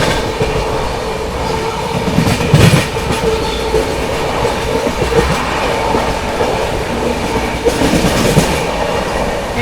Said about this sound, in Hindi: चले यहाँ पर ओवरटेक कर दिया हम लोगों ने ताज एक्सप्रेस को